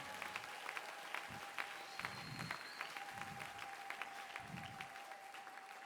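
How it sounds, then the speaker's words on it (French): Church congregation at a mass prayer service clapping in praise, faint scattered claps with a few rhythmic bursts over a low sustained tone and light background murmur. "Applaudis très bien pour le Seigneur des Seigneurs"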